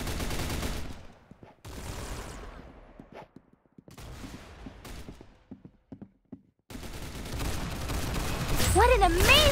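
Rapid gunfire bursts crackle in the Roblox Arsenal shooter game, loud clustered volleys with short gaps, mixed with game effects and rising tones toward the end.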